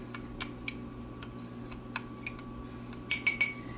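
Grated parmesan is stirred together in a bowl for a tuna casserole, making sparse light clicks of a utensil against the bowl, then a quick cluster of clinks at the end.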